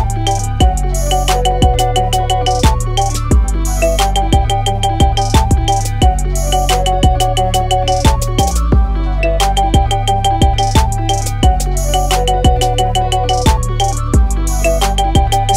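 A marimba ringtone plays a bright, looping melodic pattern of mallet notes over a steady bass beat, loud and alone throughout, with the phrase repeating several times.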